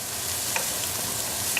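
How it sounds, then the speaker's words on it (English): Onions and garlic sauteing in a pan over medium-low heat give a steady, soft sizzle with a couple of faint clicks, close and continuous, with no talking. "saute these just for a few minutes, just until the onions get soft"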